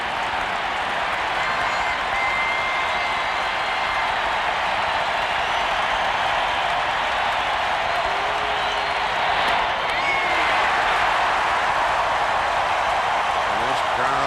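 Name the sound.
baseball crowd hooting and hollering at Braves-Twins World Series game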